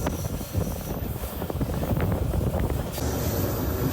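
Old Yugoslav Macedonian passenger train moving, heard from inside as a steady loud rumbling roar with rattling and wind-like rush, continuous throughout and close.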